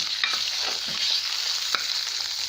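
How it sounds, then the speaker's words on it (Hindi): Mustard greens for sarson ka saag stir-frying in a pan with green garlic and crushed red chilli, a steady close sizzle with light scraping stirs and no voices. "थोड़ी देर अच्छी तरीके से भून लें।"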